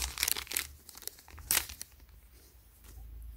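Packaging of a Supreme Tupac hologram skateboard deck being opened, close crinkly tearing and rustling in several sharp bursts, then quieter handling noise.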